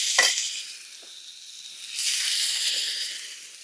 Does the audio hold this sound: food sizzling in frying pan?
yes